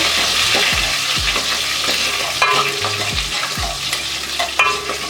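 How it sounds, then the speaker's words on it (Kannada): Crushed garlic and curry leaves frying in oil for bele sambar, a loud, dense, continuous sizzle with occasional stirring scrapes, close up and with no talking. "ಬೆಳ್ಳುಳ್ಳಿ ಸ್ವಲ್ಪ ಕಲರ್ ಚೇಂಜ್ ಆಗೋ ಗಂಟ ಫ್ರೈ ಮಾಡ್ಕೋಬೇಕು"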